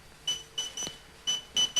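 A Xiaomi M365 Pro electric scooter beeps after being locked, giving five short, clear electronic chirps at irregular intervals, fairly close by with nothing else in the background.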